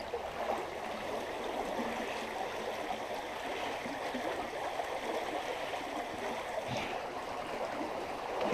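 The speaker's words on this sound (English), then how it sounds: "the river just picked up a bit" A river rushing steadily at Wolf Creek, a continuous moderate wash of flowing water with a faint gurgle, heard alone at a fairly low level.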